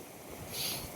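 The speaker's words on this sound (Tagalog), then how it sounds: "Malakas yung hangin." Strong northeast monsoon wind blowing across the Malilipot seawall in Albay, a steady broadband rush that swells slightly toward the middle, with no voices.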